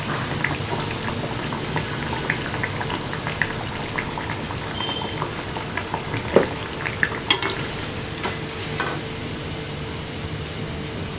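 Black chana vadas (kondakadalai vadai) deep-frying in hot oil give a steady, close bubbling sizzle, with a few sharp clinks of a utensil against the pan partway through.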